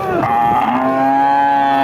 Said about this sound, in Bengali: ছয় দাঁতের একটা গরু